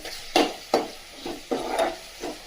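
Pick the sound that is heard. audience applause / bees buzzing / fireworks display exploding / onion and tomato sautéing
onion and tomato sautéing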